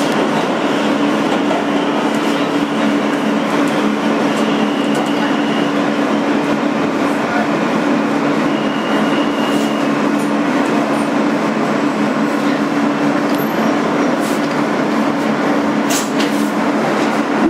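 A 2008 Kawasaki R160B N local subway car rumbles along the BMT Sea Beach line, a loud, continuous rolling roar with a steady hum and occasional faint clicks of the wheels, heard from inside.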